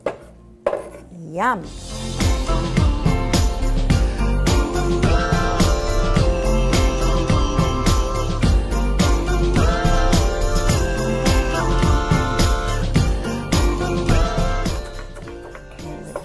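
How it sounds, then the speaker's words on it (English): An onion being chopped into small bits for homemade guacamole: steady knife taps on a board, mixed with cheerful background music, with a brief spoken exclamation. "Chopping that onion up into little bits"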